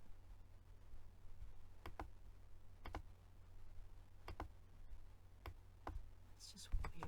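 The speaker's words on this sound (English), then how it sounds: "I'm gonna try typing it in again." Sparse, irregular keystrokes on a computer keyboard, a few single clicks and quick pairs, faint against a low steady hum.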